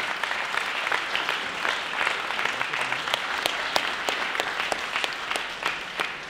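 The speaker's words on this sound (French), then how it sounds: "sous les applaudissements de la salle bien sûr" Steady applause from a room full of people, dense clapping sustained throughout with no voices on top.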